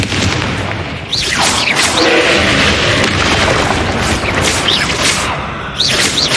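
Confringo spell explosions in the Hogwarts Legacy video game boom loudly and continuously, with repeated blasts and whooshing bursts layered over each other.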